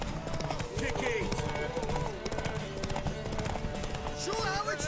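Horse hooves clip-clopping steadily in The Witcher 3 video game, a moderate rhythmic patter under game music and character voices talking.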